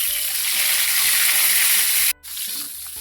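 Milkfish (bangus) cooks in a pan, a steady loud hiss of bubbling and sizzling that cuts out briefly near the end before resuming.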